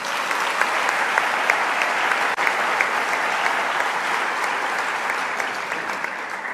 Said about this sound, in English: Mam Grasa Machel, please give a warm round of applause.